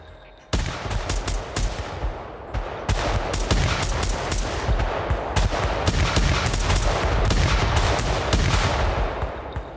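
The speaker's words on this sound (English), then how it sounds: "Johnson and his men would engage with this unit of the police in a gun battle" Intense gun battle sound effect with continuous automatic gunfire, dense rapid bursts and scattered single shots overlapping at close range, loud and sustained for nearly ten seconds with no talking.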